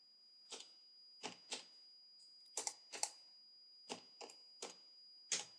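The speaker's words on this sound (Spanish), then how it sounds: "Yo no soy muy bueno tecleando" Typing on a computer keyboard comes as about ten sharp, isolated key clicks, spaced unevenly and close up, with near silence between them.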